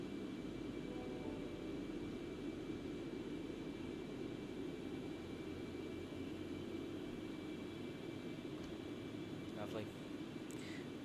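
Concorde jet engines in X-Plane 11 spool down as thrust is reduced, a steady broad roar with a low rumble holding constant throughout, with a faint brief tone near the end.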